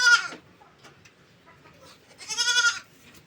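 Goats kept as backyard livestock bleat twice, a loud near call at the start and another about two seconds later, with quiet rustling between and no talk.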